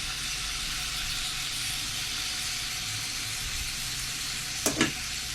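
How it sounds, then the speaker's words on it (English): Teriyaki salmon sizzles steadily in a pan as it is turned through a sweet, salty sauce, a continuous frying hiss with a couple of brief clinks near the end. "you keep turning it so that it is constantly coated in that lovely, sweet, salty, umami sauce"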